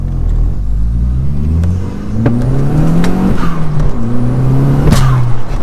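A home-built Audi A3 1.8T accelerates hard in a drag race, its loud engine climbing through the revs in repeated pulls with brief drops between gear changes, heard close from inside the car.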